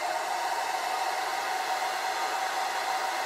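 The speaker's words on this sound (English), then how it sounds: "I plugged in a hair dryer. So we're going to turn it on" A hair dryer powered by a Bluetti AC200P portable power station runs steadily on a low setting, a constant even whooshing hum that fills the clip without change, close by, with no voices.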